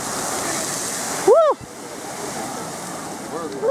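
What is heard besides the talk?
Strokkur geyser erupting in Iceland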